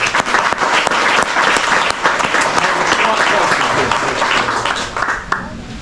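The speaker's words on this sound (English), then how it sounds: "Let's give them a round of applause" Loud, sustained crowd applause rings out for a winning team at a crappie fishing tournament championship awards, dense clapping holding steady for several seconds before tapering near the end.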